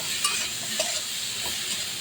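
Eggplant pieces salted and dusted with turmeric fry in a pan with a continuous close sizzle, broken by a couple of soft stirring scrapes.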